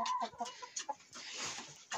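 Hens cluck in short, choppy bursts close by, with a few sharper squawks mixed in from a flock of backyard village chickens.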